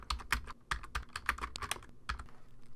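Computer keyboard typing during a Photoshop Elements session: a run of quick, uneven key clicks in irregular bursts over about three seconds, close and clear with no talking.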